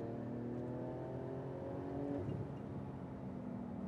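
A Porsche 911 GT2 RS engine pulls steadily on a track, its close, continuous drone holding at a sustained hum with a slight swell in pitch partway through and no talk over it.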